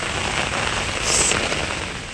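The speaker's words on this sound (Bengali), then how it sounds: "আর বৃষ্টি তো বাইরে পড়েছে" Rain falls steadily outside in a dense, even hiss of drops hitting surfaces, loud and continuous with no voices.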